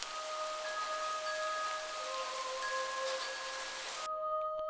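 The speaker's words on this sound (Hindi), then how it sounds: "इतनी तेज बारिश होने की वजह से" Heavy rain hisses steadily and fairly quietly against a bus's windows, with faint tonal hums running through it before the sound drops away near the end; no one speaks.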